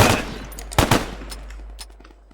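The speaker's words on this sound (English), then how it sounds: "We're being shot at!" A burst of gunfire rings out in a video game shootout, with a sharp opening shot, a loud crack a moment later, then scattered fainter shots trailing off over a low steady hum.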